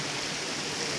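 Water rushes steadily through a concrete dam channel, a constant, dense broadband roar up close with no pauses and no voices.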